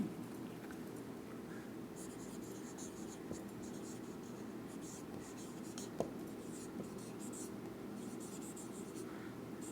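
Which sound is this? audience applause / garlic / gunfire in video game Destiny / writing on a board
writing on a board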